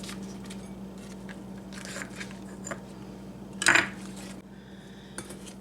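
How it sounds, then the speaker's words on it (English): A knife works butter into sugar, flour and cinnamon in a bowl, giving soft scraping and crumbly cutting sounds, with one sharp metallic clink against the dish, close and fairly quiet. "I'm going to knife that all in so it's like a crumble"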